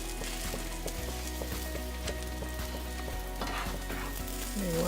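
Spinach hits a pan with a pinch of chili pepper flakes and sizzles, a close, continuous hiss and crackle with light stirring taps and a rising bubbling toward the end.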